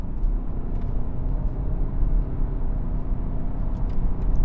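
A 2020 BMW 320d diesel sedan accelerating hard in sport mode, a steady low engine drone and road rumble heard continuously from inside the cabin with no talking.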